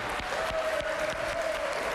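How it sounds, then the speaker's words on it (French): Crowd applause at a 2006 Coupe de France semi-final sports match between Ambert and Paris, a steady wash of clapping from the stands with a tonal whistle or voice line running through it. "Très applaudi Pascal Perrault Le Sieur à juste titre."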